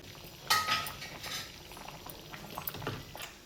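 Vegetable kurma boiling in a pot gives soft bubbling and small pops, with a brief metallic clink near the start, quiet and close with no talk.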